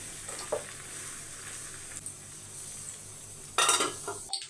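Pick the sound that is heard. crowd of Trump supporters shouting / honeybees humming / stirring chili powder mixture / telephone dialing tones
stirring chili powder mixture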